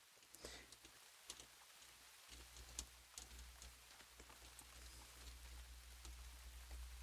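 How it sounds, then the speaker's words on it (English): Steady rain in a video game world, a continuous soft patter with scattered droplet ticks and a low constant hum underneath, moderately faint and without speech. "ASMR rain, hooray."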